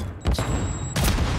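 A grenade goes off in a video game with a sharp close burst, followed by a second crack of blast noise a moment later amid quiet game ambience.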